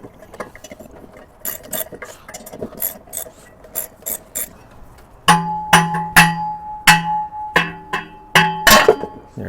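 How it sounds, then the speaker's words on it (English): Ratchet with a 13mm socket loosening fan clutch bolts, rapid clicking strokes that start light and become louder, sharper and more ringing in the later runs, close by with no talking. "So I'm going to remove these 4 bolts with a 13mm socket."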